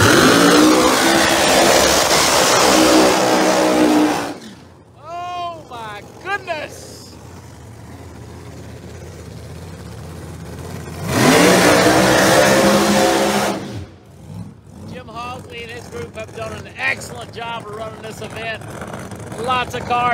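Pro Mod drag race cars launch at the Yellow Bullet Nationals finals: two loud roaring bursts of engine noise, each several seconds long, with an announcer talking in the quieter gaps between.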